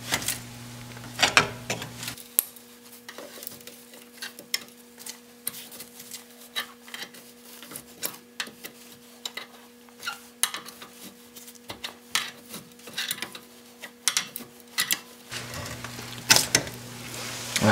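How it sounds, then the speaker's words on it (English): Metal scraping, clicks and light knocks come from a brake caliper being pried off a car in a garage, irregular close taps and scrapes scattered throughout with no talking. "Just gotta pry this caliper off"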